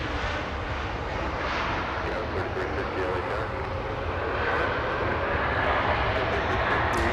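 A Delta airliner flies in at Los Angeles International Airport, its engines a steady, broad roar that swells slightly toward the end, with voices talking faintly underneath.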